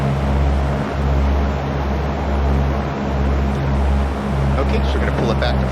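A Cessna 172's engine pulled back to flight idle gives a steady, loud, low droning hum inside the cabin. The tone pulses slightly and never changes pitch, with muffled cabin noise throughout.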